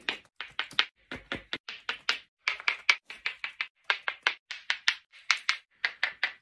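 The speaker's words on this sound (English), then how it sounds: "I'm gonna use a technique called pecking where I'm gonna peck a groove the whole way around." Sharp stone-on-stone taps repeat in a quick, steady rhythm as a groove is pecked around a stone hammer head, each peck a crisp click up close, with brief gaps between short bursts.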